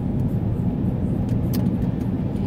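A car drives along a city street in Spokane, its steady engine and road rumble continuous and close throughout, with no talk over it.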